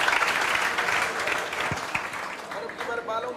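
An audience claps at a gathering honouring a woman's selection to the BSF. The applause is loud, dense and sustained, with voices talking over it.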